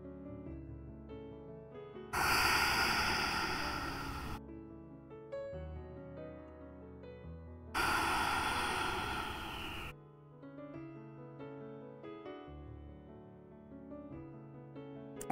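Two long, deep breaths during a yoga session, each a broad airy rush lasting about two seconds and spaced several seconds apart, over soft background music.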